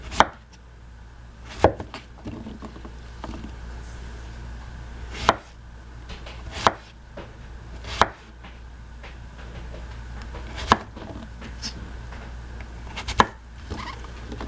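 Knife slicing zucchini on a cutting board, with sharp, distinct chops at irregular intervals of a second or two over a low room hum, no speech.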